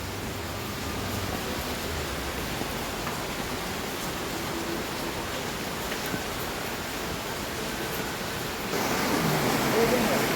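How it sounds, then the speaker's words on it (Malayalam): Floodwater from an overflowing river rushing past a rubber plantation and under a bridge, a dense continuous roar of flowing water, steady and enveloping, swelling a little louder toward the end. "വെള്ളം ഒഴുകിക്കൊണ്ടിരിക്കുകയാണോ"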